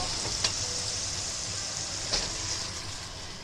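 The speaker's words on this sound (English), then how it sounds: "That sizzle." Mushrooms sizzle and crackle steadily in a hot pan with drippings, with a couple of sharper pops over the constant frying hiss.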